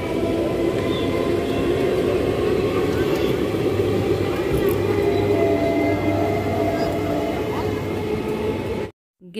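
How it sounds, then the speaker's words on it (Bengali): A train rumbles past near a station, a loud continuous low roar filling the whole stretch before cutting off abruptly at the end. "আর ওই দেখো ট্রেন যাচ্ছে।"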